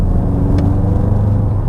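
Mk8 VW Golf GTI Clubsport in Sport mode gives a loud, steady low engine rumble as it accelerates, with a faint brief higher tone partway through and no talking.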